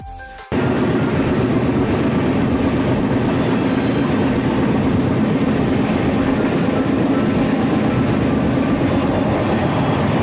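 Passenger train running on rails between Howrah and Keonjhar, a steady loud rumble and rattle of the carriages that holds for about ten seconds after a brief quieter start, with no talk.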